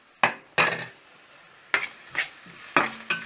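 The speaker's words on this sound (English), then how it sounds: "So I'll continue frying it and come back to you." Grated bottle gourd (lauki) being fried in a pan for kheer gives six sharp stirring scrapes with sizzling, heard in pairs with short quiet gaps between them.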